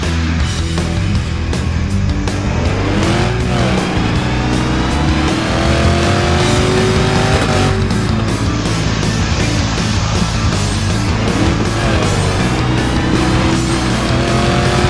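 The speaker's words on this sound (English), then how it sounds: "Almost get a perfect drift around them corners" A car drifting around the corners of an oval track in the racing game Short Oval Extreme, a loud continuous engine whine rising and falling with revs, tires squealing through the turns, no talk.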